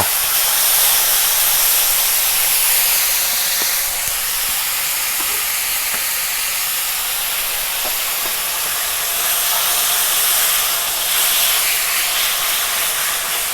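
Tamarind sauce simmering in a pan for Thai son-in-law eggs, a loud continuous steamy hiss with faint scattered ticks, close and with no voices.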